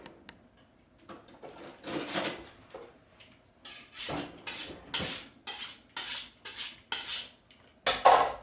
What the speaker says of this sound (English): Let me grab another knife.